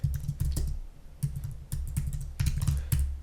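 Quick bursts of keystrokes on a computer keyboard as an essay is typed, coming in short rapid clusters with brief pauses between them, close up and alone.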